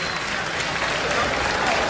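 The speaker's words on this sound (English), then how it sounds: "This crowd erupts." A boxing arena crowd at a Roman Karmazin versus Dionisio Miranda bout roars in loud, sustained cheering and applause after a flush punch lands, a dense wall of noise that holds steady for the whole span.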